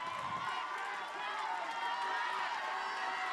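Crowd at a high school football game between Campolindo and Rancho Cotate cheering for the defense, a steady distant roar from the stands throughout, with a voice talking over it.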